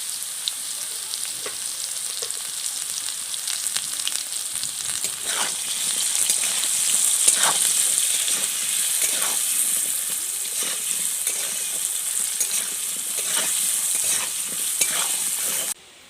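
Potatoes fry in a pan for a Bengali gugli snail curry, a steady close sizzle and hiss with repeated scraping stirs, continuing evenly until it cuts off abruptly at the end.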